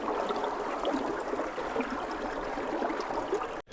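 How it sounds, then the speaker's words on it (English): South Leigh Creek flows under an inch of ice, giving a continuous soft rushing wash at a moderate level that stays steady and alone, then cuts off abruptly at the end. "South Leigh Creek is flowing under an inch of ice"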